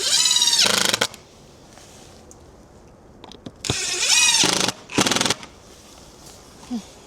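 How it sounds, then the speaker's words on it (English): A powered driver runs screws into the timber of a garden shed in three loud whirring bursts, each rising and stopping abruptly, with quiet clicks and handling noise in between. "he wants me to just hold it together or push it together like this, like a human clamp, while he fastens them in"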